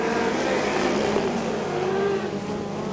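Speedcars race wheel to wheel at Archerfield Speedway, a constant loud roar of engines carrying steadily through the turns at a night race, no pauses.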